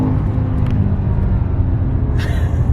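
BMW M5 E60 with a V10 engine and manual gearbox driving, a loud steady low rumble close by with a brief hiss near the end.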